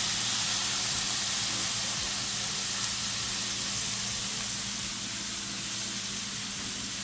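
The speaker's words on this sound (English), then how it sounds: "And you just fry the saltfish up on this side" Flaked saltfish frying in a pan, a constant loud hissing sizzle with a low steady hum underneath, continuous with no pauses and no voices.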